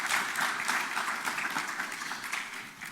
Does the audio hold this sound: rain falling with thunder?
no